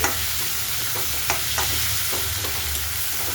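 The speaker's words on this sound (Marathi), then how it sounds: "कांदा छान असा लाल भाजलेला आहे, पाहून घ्या. आता आपण टोमॅटो टाकूया. 2 असे टोमॅटो टाकले." Two tomatoes drop into a pan of onions fried until reddish-brown, setting off a continuous hiss of sizzling oil with light stirring and scraping ticks over it, close and steady.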